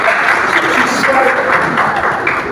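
Audience applause at a youth conference session, a steady dense wash of clapping that fills the whole stretch at an even level, with crowd voices mixed underneath.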